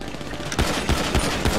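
Pistol gunfire in GTA V Online on PS4, a handful of sharp shots spaced irregularly over a busy game background, fairly loud and with no talk over them.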